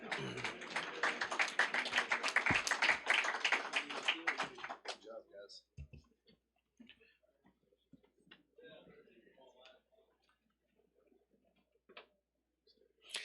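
Brief round of applause for welding students at a career and technical education signing day, a few seconds of scattered clapping that stops abruptly, followed by quiet room sounds and faint talk.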